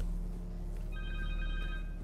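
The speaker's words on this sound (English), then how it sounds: "Ada suara telepon." Connor's cell phone rings in the Spider-Man 2 video game, a bright electronic ringtone with steady repeating tones that starts partway through and plays over a constant low game hum and music bed.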